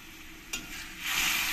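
Vegetable curry tipped into very hot oil in a pan, a sharp burst of sizzling at the moment it lands that swells into a loud, steady frying hiss, with no one talking.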